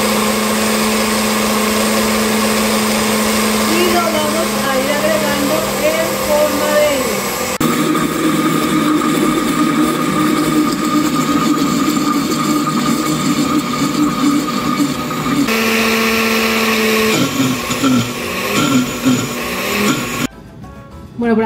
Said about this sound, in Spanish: Vamos a prender nuestra licuadora.